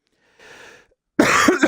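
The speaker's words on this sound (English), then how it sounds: "I can't kick this cough here." A man coughs near the microphone while commentating on a WWE 2K19 tag team match: a soft, muffled burst, a short pause, then a louder, harsher cough.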